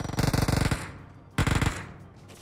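Automatic gunfire in PUBG: two rapid bursts of closely spaced shots, a long burst then a shorter one after a pause, loud and near with a lingering tail between them.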